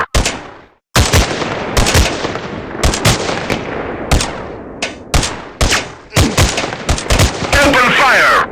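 Gunfire from a mobile FPS shooting war game on an itel A25 Android phone: loud bursts of rapid shots in repeated volleys with short gaps and sharp reports, and game voices calling out between them.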